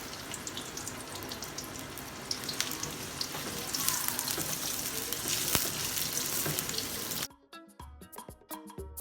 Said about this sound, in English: To that, I'll add my sliced up onions, and I'm going to go ahead and cook it for about 5 minutes.